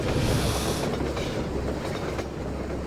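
A fast train rushes past in Half-Life 2's City 17, loud rolling rail noise with clickety-clack wheels that fades slightly as it goes by, no voices present.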